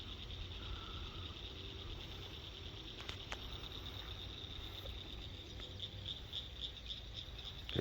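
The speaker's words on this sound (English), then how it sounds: "Hear the frogs?" Frogs calling outdoors at night, a steady high-pitched chorus trilling continuously in the distance with faint insect-like chirps and no talk.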